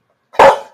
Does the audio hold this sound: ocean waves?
no